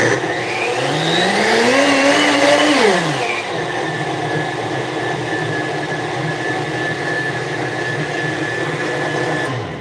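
A blender grinding coffee beans whirs loudly, its pitch rising then dropping sharply after a few seconds, settling into a steady hum.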